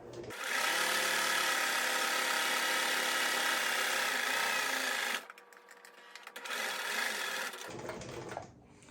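Sewing machine top stitching through several layers of fabric for a waist apron, a loud steady motor whir close up, followed by a quieter pause and then a shorter second run of stitching.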